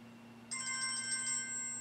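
A new mobile phone rings during a talk on modeling microbial microenvironments, a steady electronic ringtone with layered tones starting abruptly and continuing loudly over a low background hum.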